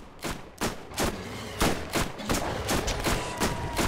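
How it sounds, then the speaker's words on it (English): Rapid bursts of submachine gun fire in a video game, several sharp volleys in quick succession with short gaps, loud and close throughout. "This is supposed to be a fucking SMG."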